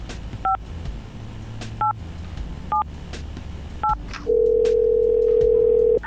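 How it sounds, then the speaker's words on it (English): Four short two-tone DTMF keypresses dialing a telephone number at the start of a radio call, followed by a steady, loud dial or ringback tone for about two seconds. "We're going to get Jason on the phone"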